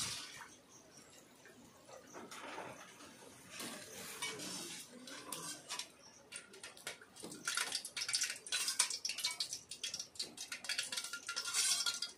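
Fried gulab jamun dropped into sugar syrup in a home kitchen, giving soft wet plops and clinks of a metal pot and utensils that grow busier and louder toward the end, with no talking.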